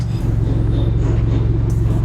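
A Lamborghini Urus engine gives a steady, loud low rumble that holds throughout at a constant level, close by, with a faint high hiss near the end.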